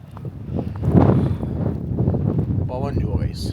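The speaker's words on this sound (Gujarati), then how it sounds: "પવન જુઓ ગાઈસ" Strong winter wind buffets a moving car on the road, a rough gusting roar of wind noise that swells and eases, with a voice talking over it.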